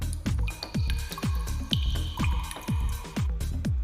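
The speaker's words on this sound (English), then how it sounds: "We hear a little water drop effect in the background." Repeated water drop sound effect, a steady run of about ten close, clear drips with pitch-falling plops and bright ringing tones, loud and alone.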